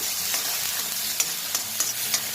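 Garlic, a spoonful, fries in oil while being stirred with tomato for a spicy Nepali-style potato curry: steady bright sizzle throughout with a few sharp scraping stirs of the spoon, close and fairly loud, no voices.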